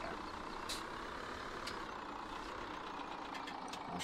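A truck in Farming Simulator 17 reversing on a farm while hauling sugar beet, its engine idling steadily under a series of sharp reversing beeps spaced irregularly, moderately near with no talking.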